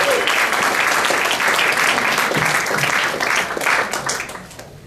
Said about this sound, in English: Guys, please big round of applause for John Moorcroft.